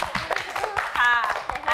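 Classmates in a primary school maths class applaud group three, a brief patter of hand claps under children's voices and chatter in the room.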